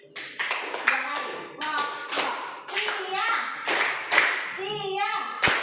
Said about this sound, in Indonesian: Kalau tepuk siang 2 kali.